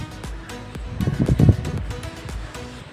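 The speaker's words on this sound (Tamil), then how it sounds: "டெரஸ்ல இருக்கேன், செம்மையாக காற்று அடிக்குது." Strong wind blows across an open terrace, roaring and buffeting the phone microphone in loud, uneven gusts that swell toward the middle, with no talk over it.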